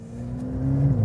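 A Porsche 911 Carrera GTS (992) drives a race track in northern Italy, its engine holding a loud, steady drone that climbs slightly in pitch as it accelerates.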